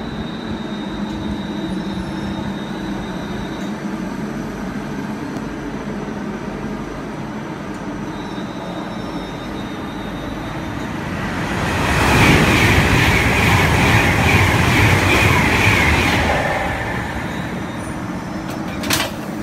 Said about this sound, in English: Going into platform number 2, we have a 350 and a friend about to detach to 350 370